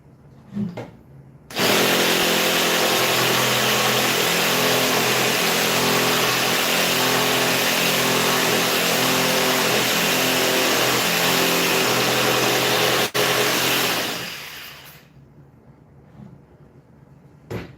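A power saw cuts scrap lumber with a loud, continuous motor whine and buzz for about thirteen seconds, close by. It starts suddenly and then winds down, with no talking over it.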